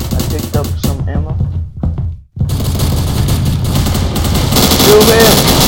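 Gunfire in a Roblox multiplayer shooter, bursts of rapid shots with a near-continuous crackle of weapons fire after a brief pause, loud and close, with faint game noises in the mix.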